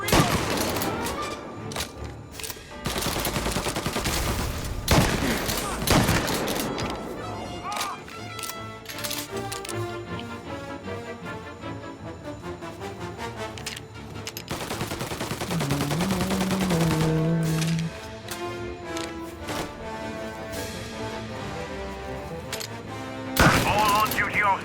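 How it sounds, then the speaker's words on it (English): Gunfire in the video game Mafia Definitive Edition: loud bursts of rapid shots and volleys, with game voices and music underneath through a long firefight. "All on-duty officers, gunshots being reported."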